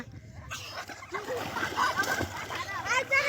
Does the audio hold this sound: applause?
no